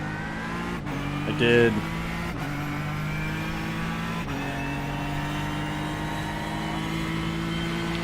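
LMP prototype race cars lap at the Daytona 24 Hours, giving a steady, high engine drone with layered tones that shift in pitch, while a voice briefly speaks over it.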